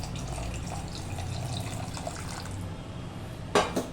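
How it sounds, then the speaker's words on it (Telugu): Beetroot juice poured into a batter for red rose-shaped vadiyalu, a soft continuous liquid trickle with faint drips, ending in a brief louder splash or clink near the end, close by. "ఎర్ర గులాబీల కోసం బీట్రూట్ జ్యూస్ ఇలా తీసుకున్నానండి ఇలా పోసేస్తున్నాను"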